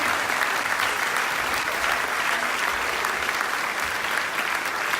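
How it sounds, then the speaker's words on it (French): Sustained, dense applause from an audience at an awards evening in Agen holds steady and loud for the whole stretch, with no voice rising above it. "on vous applaudit très très très fort"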